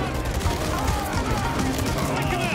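Automatic pistol gunfire in the video game Call of Duty Modern Warfare 3: rapid, fairly quiet bursts of shots mixed with game sounds, with someone talking over them.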